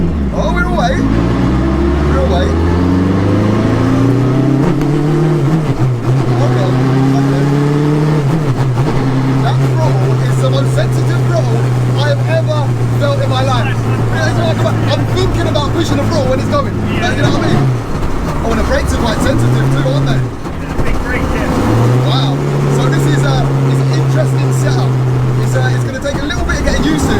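A Peugeot 106 fitted with a superbike engine pulls away and accelerates, its high-revving note climbing through several gears before holding a steady drone, then easing and picking up again, loud from inside the car under ongoing cabin talk.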